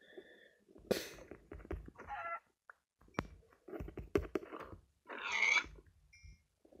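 Minecraft chickens make short, faint clucks and squawks in quick bursts, with brief pauses and some softer game sounds between them.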